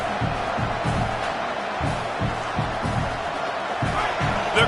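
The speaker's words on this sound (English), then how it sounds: "Man, this crowd really affecting the football game." Home crowd noise at a college football game between Indiana and Michigan, a steady loud roar with rhythmic pulses and swells throughout, broad and enveloping as if heard from within the stadium.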